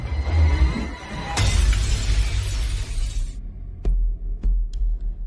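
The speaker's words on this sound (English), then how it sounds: "He fucking smashes Brahms." A porcelain doll is smashed in a horror film: a loud shattering crash of breaking porcelain with scattered debris, followed by several sharp knocks and impacts, heard alone without talk.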